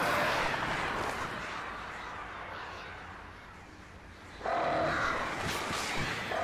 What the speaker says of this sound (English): Not the birds.